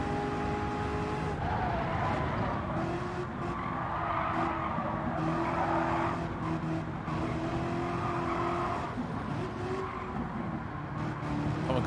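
Race cars roar and squeal their tires through corners on a track in the Gran Turismo 7 racing game, with a Camaro among the pack. Engine noise stays loud and continuous throughout, with recurring screeches rising over it.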